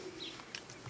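A racing pigeon arriving at a loft in the Kartuzy-Żukowo area gives a short, faint coo with a few soft chirps in a quiet setting.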